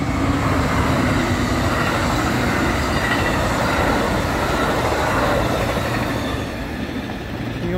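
A northbound Amtrak passenger train hauled by an SC-44 Charger locomotive rumbles past close by, with a steady roar of wheels and rail noise that eases off slightly near the end.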